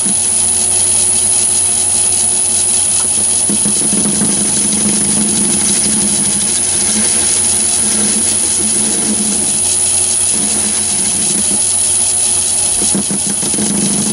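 Metal lathe turning at about 375 RPM while taking light cuts on T-nuts, a steady mechanical hum with a high whine and faint cutting chatter that swells at intervals, close and continuous, with no talking.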